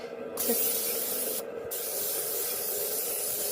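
Two short bursts of aerosol cooking spray hiss out onto a pan, then a steady, softer spraying continues close by with no voices.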